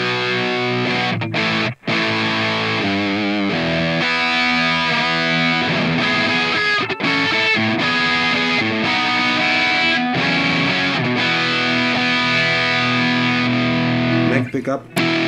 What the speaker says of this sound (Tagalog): Sa ating amp modeler, ito. Try natin yung bridge humbuck.